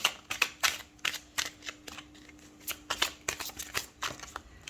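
Tarot cards are shuffled and drawn by hand at close range, a run of crisp riffling flicks and slaps that come in quick clusters, with quieter pauses between them.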